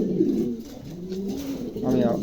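A pigeon coos softly and repeatedly up close in a low, rolling murmur, with a voice speaking faintly underneath.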